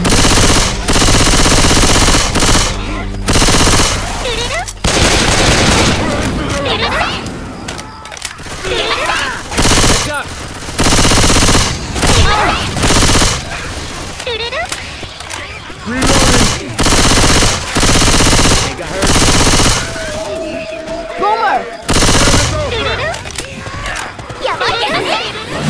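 Rapid automatic gunfire in Left 4 Dead 2 rattles in loud repeated bursts with brief pauses, close and dominant throughout, with occasional voices in the game.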